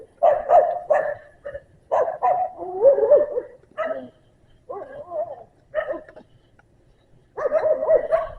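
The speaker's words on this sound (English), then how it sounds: "I'm making dogs crazy over here." Several dogs bark in repeated bursts on a Madison, Kansas street, a bulldog among them, with yips and whimpers mixed in, loud and fairly close with short pauses between volleys.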